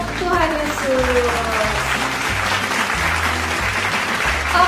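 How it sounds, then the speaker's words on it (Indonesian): Kindergarten children at a Sunday school worship service clap together in a steady patter, with an adult voice and a musical tone carrying over the applause. "tepuk tangan semuanya untuk Tuhan Yesus"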